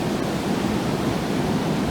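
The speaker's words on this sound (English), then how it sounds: "Well, it's officially raining." Rain falls steadily at a beach, a dense, loud, even hiss that doesn't let up, with no voices.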